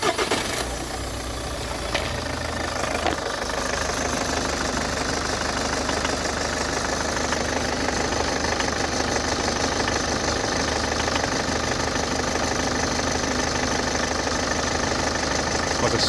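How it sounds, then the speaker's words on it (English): A hot car engine idles steadily with a faint dragging rattle from the timing chain running under the even, continuous engine hum. "dragging sound you can hear, typical of a timing chain really."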